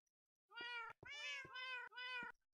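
Cats in the video game Minecraft meow three times in quick succession, clean and close against silence, each call drawn out and slightly bending in pitch.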